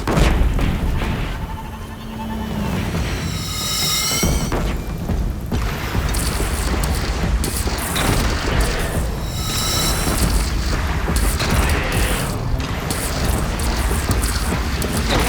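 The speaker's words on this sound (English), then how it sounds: "Take up a cannon!" Cannons fire repeatedly in a chaotic battle in Horizon Zero Dawn Remastered, heavy booms and blasts layered over a dense, continuous roar of combat noise with rising whooshing projectiles.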